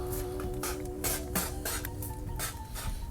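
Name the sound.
water sprayed onto inflatable pool float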